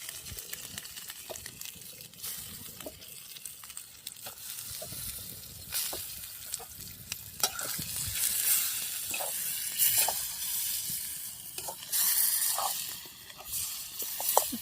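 Large fresh river fish are added to cooked masala in a pan, giving a hissing sizzle with sharp crackles and stirring clatter that swell and fade irregularly, close by with no talk.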